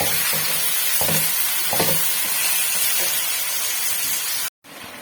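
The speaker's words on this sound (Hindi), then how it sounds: "इसे अच्छी तरह से हम भून लेंगे, टमाटरों के सॉफ्ट होने तक हम इसे भून लेंगे" Tomatoes and masala frying in a pan for vegetable pulao, a loud dense sizzle with occasional stirring scrapes, cutting off abruptly near the end before resuming.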